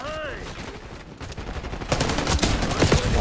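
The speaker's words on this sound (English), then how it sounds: "I dove around the corner and shot somebody in the face" Black Ops 6 gunfire crackles from a brief lull into dense rapid bursts that build louder over the last second and a half, with a faint tonal sweep at the start and a voice briefly underneath.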